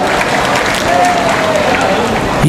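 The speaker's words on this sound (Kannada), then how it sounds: "ಅದಕ್ಕಾಗಿ ಜೋರಾದ ಚಪ್ಪಾಳೆಯನ್ನು ನೀವೆಲ್ಲರೂ ತಟ್ಟಬೇಕಾಯ್ತು" Dense, steady applause from an audience at a Congress political rally speech in Karnataka, loud and continuous for a couple of seconds with crowd noise mixed in.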